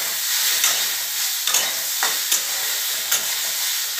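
Soybean oil sizzles briefly in a pan, a continuous close hiss broken by several short scraping stirs.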